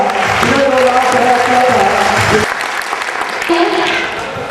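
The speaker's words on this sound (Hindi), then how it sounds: "दोस्तों जोरदार तालियों से स्वागत करिए इस विषय का" An audience at a Yadav community festival gathering in Ullhasnagar applauds loudly and continuously, a dense wash of clapping that briefly mixes with a voice over a speaker system.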